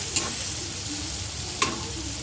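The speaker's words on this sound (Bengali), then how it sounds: "পেঁয়াজ টমেটোটাকে আমি ভালো করে নাড়ানাড়ি করছি।" Onion and tomato stirred in a frying pan: a steady close sizzle with two sharp spoon scrapes against the pan.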